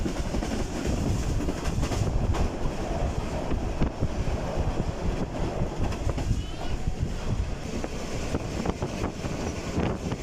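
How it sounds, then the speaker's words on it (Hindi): The Rehman Baba Express rushes through Jungshahi railway station at high speed, a loud continuous roar and rattle of wheels with rushing wind, steady throughout. "ट्रेन इस वक्त बड़ी तूफ़ानी रफ्तार से जंगशाही रेलवे स्टेशन को थ्रू पास कर रही है।"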